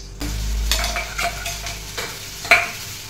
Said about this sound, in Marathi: कांदा टाकला की असं चरचर करत वर आला की नाही